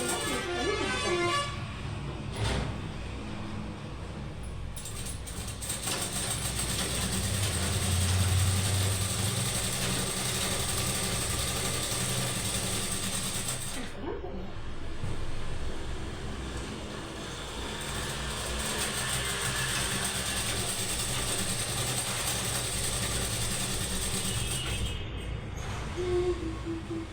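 Sewing machine stitching the pants of a Punjabi dress, a steady mechanical whirring and rattling that runs almost without a break, briefly pausing midway, close and moderately loud with no talk over it.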